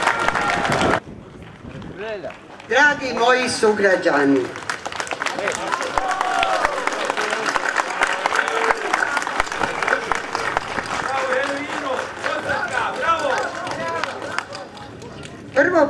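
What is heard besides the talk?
crowd applause at a protest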